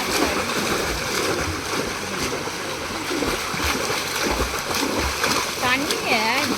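Water splashes and sloshes repeatedly up close as someone thrashes about in a beach resort swimming pool in Varkala, with voices talking and a child's cry-like squeal near the end.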